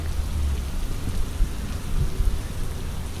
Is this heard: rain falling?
yes